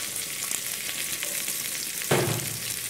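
Onions are sautéed in a pan with asafoetida, giving a steady close sizzle. One louder stirring clatter comes near the end.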